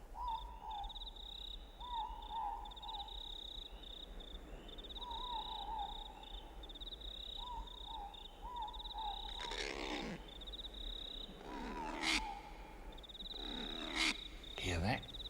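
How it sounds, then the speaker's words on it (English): A female kakapo, New Zealand's flightless night parrot, calls at night in repeated low and high pulsing notes, fairly quiet and steady, with sharper bursts of nearby wildlife sound toward the end. "That's the call of the female night parrot"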